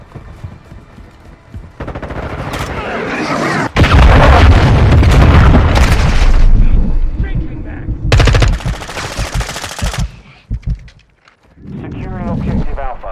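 Call of Duty: Modern Warfare 2 multiplayer battle with loud, dense machine-gun fire, repeated bursts and heavy booming explosions from a cruise missile strike, the din rising and falling over about thirteen seconds, with game radio voices at times.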